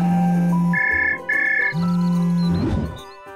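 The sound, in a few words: telephone ringing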